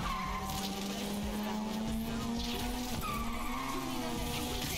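A car drifts in Need for Speed: Unbound, its tires squealing in one continuous skid over a steady engine drone that runs loud and unbroken throughout.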